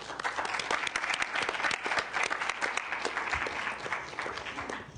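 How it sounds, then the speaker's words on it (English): An audience at a state Senate health committee hearing applauds steadily for about five seconds, a dense even patter of many hands with no voices rising above it. "let's give her a round of applause"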